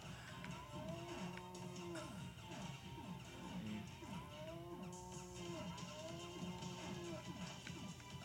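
A cow boss in the Keio Flying Squadron video game moos repeatedly, with several moderate drawn-out moos over continuous game noise and crashing hits.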